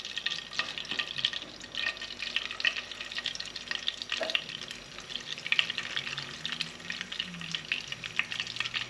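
Homemade fish fingers sizzling steadily in a pan over gentle heat, a continuous bright crackle with occasional soft stirring and clinks, no talking.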